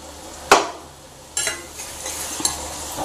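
Ginger, garlic, tomato and coriander paste going into browned onions for a soyabean masala, with a few distinct scraping clatters of a spoon over a soft ongoing sizzle.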